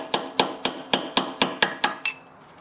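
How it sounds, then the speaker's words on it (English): A metal chisel is lightly tapped against a Honda HRR216 lawnmower drive pulley key, producing nine evenly spaced, sharp metallic clinks, close and clear, each ringing briefly before the next, with no talking. "I'm just going to grab onto it here and just lightly tap."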